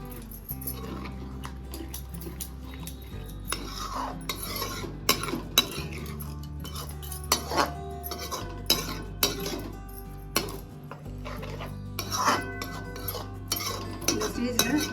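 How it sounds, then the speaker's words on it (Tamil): Yogurt stirred into a capsicum kurma in a pan, a metal spoon repeatedly scraping and clinking against the pan in an uneven rhythm, close and fairly loud, with no one talking. "இந்த தயிரை இதில் சேர்த்து இதை நல்லா மிக்ஸ் பண்ணி விட்டுடலாம்."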